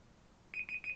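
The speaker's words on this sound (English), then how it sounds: "So there is my timer going off." A timer alarm goes off with three loud, evenly spaced electronic beeps after a quiet start, with no talking.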